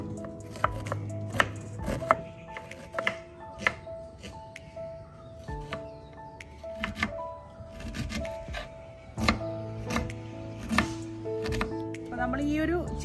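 A knife chops a peeled onion on a board in a steady run of sharp, close cuts with short pauses between bursts, while a person talks in the background.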